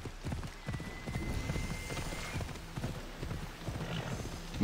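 Horse hooves clip-clop at a steady galloping rhythm in Assassin's Creed Odyssey, a continuous close patter over low game ambience and faint background sound.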